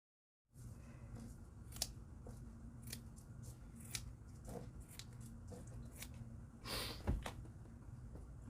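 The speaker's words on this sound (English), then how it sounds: "I'll cut off the excess fabric" Scissors snip off excess fabric from an upholstered storage bench, a series of short, crisp cuts at irregular intervals, close and fairly quiet, with soft fabric rustling between them.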